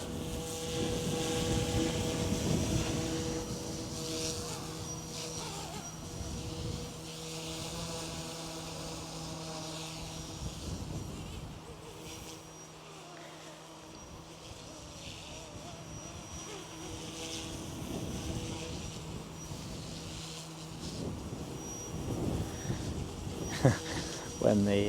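A Goosky S2 MAX RC helicopter flies outdoors in a breezy wind, its rotor and motor giving a continuous whining drone that rises and falls with the throttle, with wind noise underneath.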